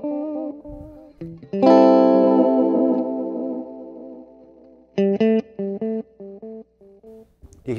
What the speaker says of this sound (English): You hear that decay, the degrading of the echo as it gets smaller?